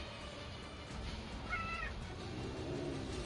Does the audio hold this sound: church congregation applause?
no